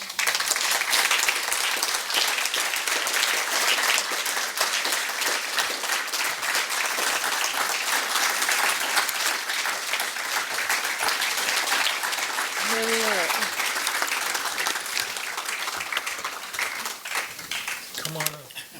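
Sustained applause from an audience at a poetry festival event honoring a poet laureate, steady and dense for most of the stretch, with voices rising through it near the end.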